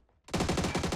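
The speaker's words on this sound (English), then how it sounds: "Hit him twice with a shotgun." Shotgun fire in the video game PUBG, a loud burst of rapid blasts erupting after a brief quiet start and repeating in a tight rhythm up close.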